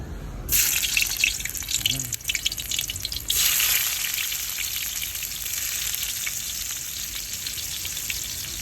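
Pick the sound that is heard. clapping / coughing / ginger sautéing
ginger sautéing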